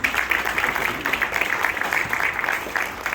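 Sustained applause from an audience at an elementary school safety patrol program event, a steady dense patter of many hands clapping for several seconds with no voices on top.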